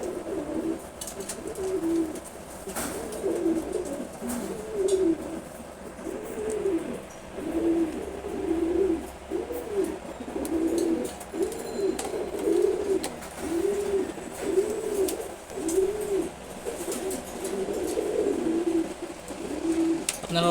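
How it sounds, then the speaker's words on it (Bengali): Silver Gorra pigeons coo in a steady series of low, rolling calls, repeating close by and fairly quiet, with no other sounds over them. "সিলভার গোরা কবুতরগুলো খুবই ভালো উঠতে পারে।"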